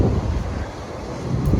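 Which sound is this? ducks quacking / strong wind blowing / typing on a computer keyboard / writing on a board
strong wind blowing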